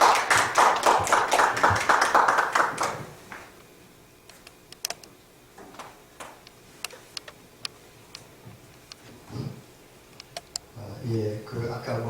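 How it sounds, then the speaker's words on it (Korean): An audience at an academic society's annual general meeting gives a short burst of dense applause that stops abruptly, followed by scattered taps and clicks and a voice speaking near the end. "큰 박수로 모시겠습니다."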